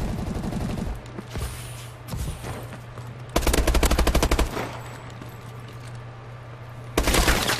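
Shotgun fire in a Call of Duty match comes as loud, rapid volleys of blasts, one group in the middle and another near the end, with quieter game noise between them.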